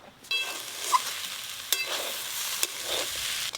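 Potatoes and shredded cabbage fry in hot oil in a pan, a steady broad sizzle with a few sharp scraping stirs of a spatula, close and fairly loud with no talking.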